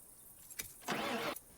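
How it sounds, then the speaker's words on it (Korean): A car engine cranks briefly but fails to start after a warning light comes on, giving a short whir, a pause, then a longer grinding turnover of about half a second that cuts off, close and fairly loud. "서둘러 정비를 해보지만 시동을 걸기엔 역부족이었죠."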